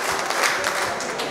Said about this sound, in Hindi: जोरदार तालियों से इस्तकबाल कर दे अपना महबूब शायर आपका